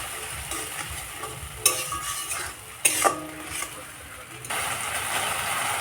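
Ginger, green chilli and cumin paste sizzles and fries in a pan with a splash of water while a spatula stirs it, giving a continuous close hiss broken by a couple of sharp clinks against the metal.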